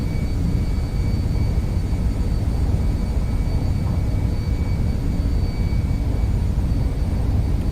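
Simulated MD-11 jet engines roar at takeoff power in X-Plane 11, a steady, loud, broadband rumble with a faint high whine, continuous and without voices.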